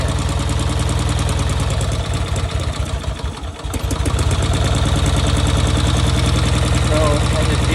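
The engine of a Cushman Truckster runs steadily with its choke almost closed and a fuel-starved carburetor, a loud close rumbling idle that dips briefly midway before resuming its even chug.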